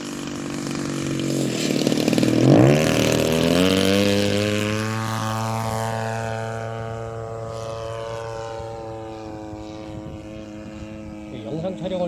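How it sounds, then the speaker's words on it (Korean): A 500cc-engine unmanned fixed-wing aircraft flies a traffic pattern. Its buzzing propeller engine swells loud as it passes close, then holds a steadier drone and fades a little as it moves away. Someone talks over it. "이게 500cc의 기체인데 한 15분 정도 비행 가능한 것 같아요"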